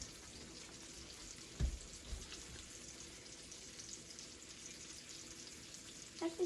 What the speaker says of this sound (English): Frying up some fish in the pan.